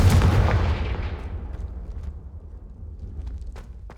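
Confringo blasting spell explosion in Hogwarts Legacy: a loud booming blast at the start that decays into a long low rumble, followed by faint crackles.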